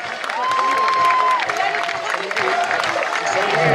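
Audience at a bullfighting festival in Saint-Rémy-de-Provence applauding a young bullfighter, steady clapping and crowd noise with a whistle-like tone and raised voices over it.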